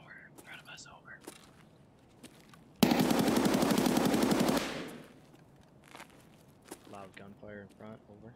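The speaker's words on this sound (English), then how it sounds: "Gunfire in front, over." Automatic gunfire in the video game Escape From Tarkov, a loud sustained burst of rapid shots lasting about two seconds, with whispered radio-style talk before and after.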